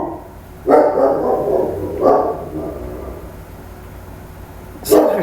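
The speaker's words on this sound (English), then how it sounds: "What is that dog barking at?" A dog barks three times, spaced a couple of seconds apart, fairly close and loud, with quiet room noise between barks.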